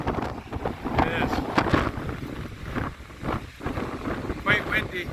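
Strong gusty wind at a waterfall near Vik, Iceland buffets the microphone in a steady roar, with a few brief voice-like sounds breaking through.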